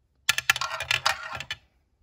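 A small ball clatters and rattles in a spinning roulette wheel, a close, quick series of hard ticks and bounces lasting about a second and a half before settling.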